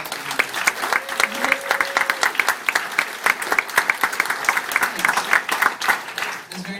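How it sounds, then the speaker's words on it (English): Audience in an Alamo Drafthouse movie theater claps heartily for the projectionist, with crisp, rapid clapping throughout and a few voices and a brief whistle-like tone mixed in. "I want a huge round of applause for him."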